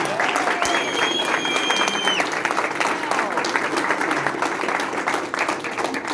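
A crowd at the Lover's Aloft winners 2022 gathering gives a steady round of applause, dense and continuous throughout, with faint tonal squeals and a murmur of voices mixed in.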